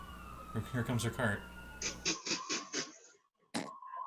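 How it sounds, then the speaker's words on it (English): A short police siren sound effect wails in bursts over a tabletop fantasy role-playing game session, with a voice talking through part of it. "You guys hear the sirens."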